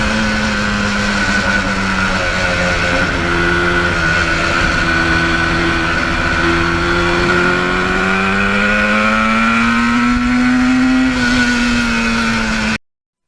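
A restored 1977 Yamaha RD400 two-stroke motorcycle engine revs loudly and steadily, close by, its pitch climbing toward the end before cutting off abruptly, with no voices.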